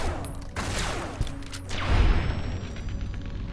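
Rapid gunfire and booming explosions from a firefight in Fallout: New Vegas crackle in a dense, loud fusillade, with a heavy blast near the middle.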